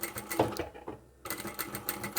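A sewing machine stitches through folded layers of fabric for an envelope clutch, its rapid mechanical whir running steadily, breaking off briefly, then resuming at full speed up close.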